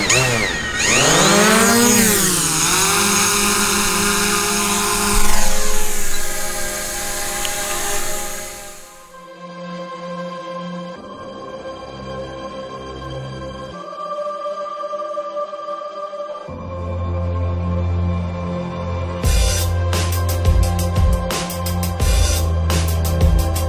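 A small quadcopter drone whines loudly and close at first, its motor pitch sweeping up and down. It then gives way to steadier, fainter buzzing tones with shifting pitch.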